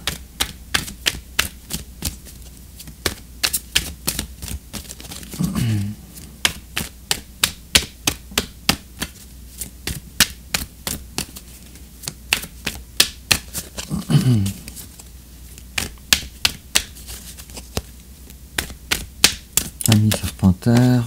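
Oracle cards shuffled by hand during a tarot-style reading, giving a long series of sharp, regular riffling taps and clicks, close and crisp, with a few softer rustling swishes between the rhythmic bursts.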